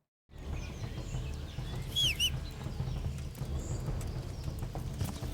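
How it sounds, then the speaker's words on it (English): In the medieval game Kingdom Come: Deliverance, a brief chirping bird call rings out faintly amid a rustling, clip-clopping outdoor ambience, with occasional fainter chirps. "It sounds like birds."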